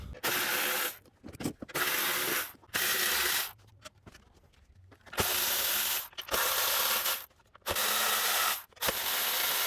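A ratchet wrench works on a Toyota Tacoma 4.0L V6 engine during fuel injector removal, with bursts of rapid clicking ratcheting broken by short pauses and soft metallic handling sounds.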